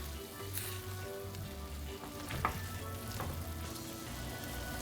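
Beef returned to a hot pan in a beef stew sizzles steadily with a constant crackling hiss, close by, broken only by a few light stirring clinks; no talk.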